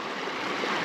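Water pours out of an 8-inch drainage pipe on farmland during rain, a dense steady rushing and gurgling that stays even and moderately close throughout.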